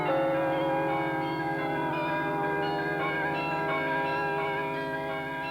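A carillon of 48 tuned bells plays a sustained ringing chord of overlapping tones, with bright harmonics lingering and decaying evenly, loud and resonant with no talking.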